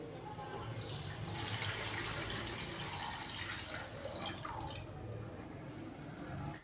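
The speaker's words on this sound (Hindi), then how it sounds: "तो सबसे पहले हम कढ़ाई के अंदर यखनी शामिल करेंगे।" Chicken stock (yakhni) is poured into a wok for chicken hot and sour soup, making a continuous soft splashing, watery flow that stays fairly quiet and even throughout.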